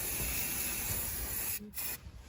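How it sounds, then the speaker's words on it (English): Spray paint hisses onto a metal anchor chain in one long, steady, close burst, then a brief pause and a second short spray. "I'm just going to spray my first mark."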